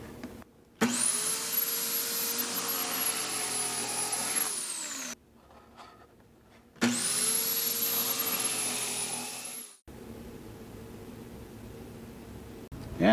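A Kreg Foreman pocket hole machine drills into small, narrow face frame pieces of wood in two loud, even, high-pitched whining runs of several seconds each, separated by quieter pauses, with no voices.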